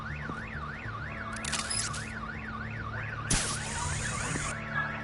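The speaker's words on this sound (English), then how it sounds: "My bat stunner would set off the car alarm." A car alarm in Batman: The Enemy Within, set off by a bat stunner, wails in a rapid rising-and-falling pattern over a low mechanical hum, broken by a couple of sharp bangs.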